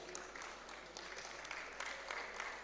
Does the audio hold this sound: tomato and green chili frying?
no